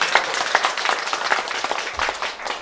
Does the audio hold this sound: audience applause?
yes